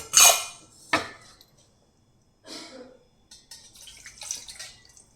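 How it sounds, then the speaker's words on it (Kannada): Water is poured into soaked tamarind in a vessel while dal is being cooked, with a few short splashing bursts and clinks separated by quiet pauses. "ಇದಕ್ಕೆ ಸ್ವಲ್ಪ ನೀರು ಹಾಕೊಂಡ್ಬಿಟ್ಟು"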